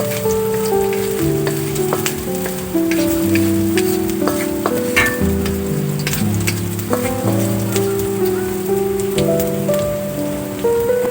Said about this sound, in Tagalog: Pagkatapos, ay maaari na tayong mag-isa ng bawang at sibuyas dito.